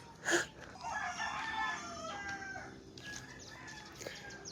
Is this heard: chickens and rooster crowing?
yes